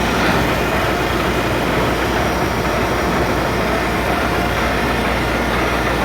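A Niles 500C gear tooth grinder runs with a loud, steady mechanical hum and broadband whir, constant and close with no speech.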